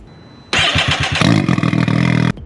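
A Can-Am X3 fitted with an RPM titanium e-valve exhaust fires up with a few chugging cranks, then revs hard into a loud, throaty, close roar with rising blips before cutting off abruptly.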